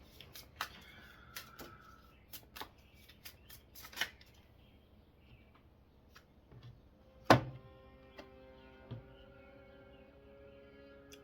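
Tarot cards being shuffled by hand, soft scattered riffles and taps with one sharp louder snap midway, faint and close with no talking.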